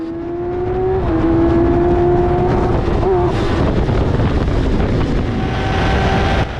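An F1000 race car at over 100 mph into a corner, heard onboard: a loud, sustained high-pitched engine whine that dips on a gear change and climbs again, with heavy wind and road roar throughout.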